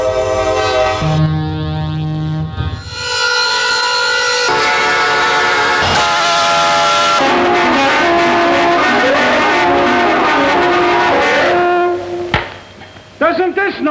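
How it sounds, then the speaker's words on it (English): A diesel locomotive's multi-chime air horn sounds in long, loud blasts, one tone shifting into a richer chord, close by and mostly alone. "Air horns present a long and complex history."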